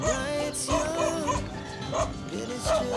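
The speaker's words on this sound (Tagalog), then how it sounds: "Yung aso." A dog gives a few short yipping barks in an irregular rhythm, fairly close, with some background voices and ambient noise.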